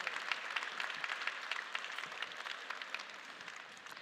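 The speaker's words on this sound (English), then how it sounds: "Would you give them a round of applause for me" Scattered applause from a conference audience at a political gathering in Poland, fairly faint and distant, a thin spread of claps holding steady before tapering slightly.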